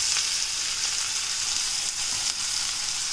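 Onion sizzles steadily in a hot pan for a Garhwali dish, a loud, dense crackling fry with occasional faint stirring scrapes and no voices.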